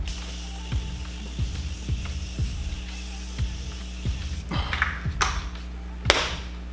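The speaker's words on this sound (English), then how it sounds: "I'm going to take the Morphe setting spray, the continuous mist, and I'm going to set my face." Three or four short, airy hissing sprays of a continuous-mist setting spray misted onto a face toward the end, following a stretch of quiet soft tapping.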